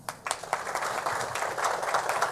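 Audience at an evening lecture event applauding to welcome the speaker, a steady wash of many hands clapping at moderate distance, building slightly and holding through to the end without speech.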